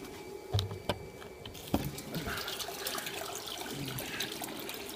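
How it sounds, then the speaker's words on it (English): Water trickles and splashes steadily into an aquaponic tank, fed by a line coming in from the greenhouse, with a few louder drips early on over a continuous wash of flow. "water coming in from the greenhouse"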